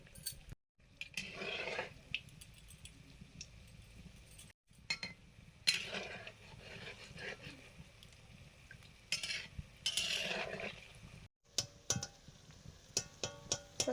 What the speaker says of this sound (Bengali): প্রথমবারে তালের বড়া ভাজা হয়ে গেল